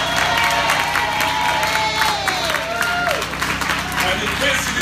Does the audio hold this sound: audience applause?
yes